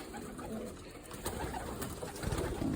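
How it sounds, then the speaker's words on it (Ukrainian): Soft, low cooing of pigeons close by, repeated murmuring calls over a noisy background with some rustling. "Це такі голуби"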